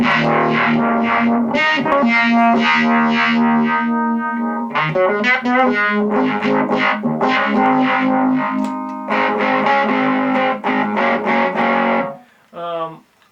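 A distorted electric guitar through a Univibe clone pedal plays sustained chords and notes with a warbling, swirling modulation, loud and continuous, ending with a few softer notes.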